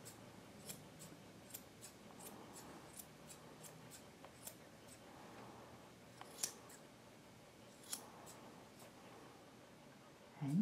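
Scissors snip through a Maltipoo's fur during an at-home grooming session, with sharp, quiet clicks at irregular intervals, sometimes in quick pairs, against a faint, low background.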